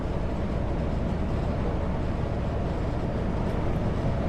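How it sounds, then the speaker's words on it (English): A freight train of oil tank cars rolls past in a mountain provincial park, a steady broadband rumble and rattle of wheels on rail, continuous and fairly close, without talk. "Oh, there's a train."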